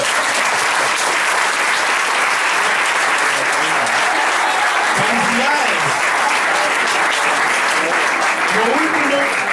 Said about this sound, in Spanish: Un aplauso para esa señora.